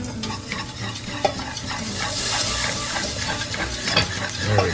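A cheese souffle base is stirred in a pan over medium-low heat, giving a steady close scraping and bubbling hiss with a few sharper clinks.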